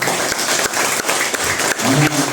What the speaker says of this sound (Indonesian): kita harus memberikan aplaus kepada Kabid Sosial HDCI Tangerang